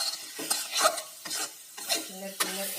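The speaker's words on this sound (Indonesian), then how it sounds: "daun salam, daun jeruk, lengkuas sama serai. Kita tumis terus biar baunya" Bay leaves, lime leaves, galangal and lemongrass being sautéed for beef rendang in a mosque kitchen, with repeated scraping stirs and a light sizzle, close and fairly loud in uneven bursts.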